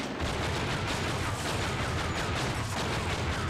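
Twin Desert Eagle .50 caliber pistols fire in an open-world police video game, a dense, loud barrage of overlapping gunshots that continues without pause throughout.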